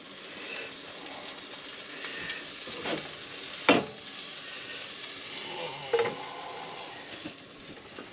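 A soft, steady sizzle of egg-washed food frying in butter in a pan over medium heat, with a few sharp clinks and scrapes of a utensil.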